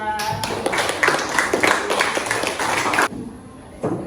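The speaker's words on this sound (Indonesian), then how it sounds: "Tepuk tangan dulu untuk kelompok 2." A class claps together in a brisk burst of applause for a student group that stops abruptly, followed by a short quiet and a soft thump.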